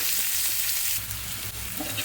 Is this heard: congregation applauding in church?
no